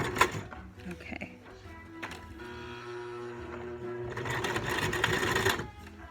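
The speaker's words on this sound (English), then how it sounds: "I barely press my sewing pedal" A sewing machine stitches elastic into a cloth diaper, whirring in short bursts and then in a longer, steady run at moderate speed, close and clear, with a few mechanical clicks at the start and end.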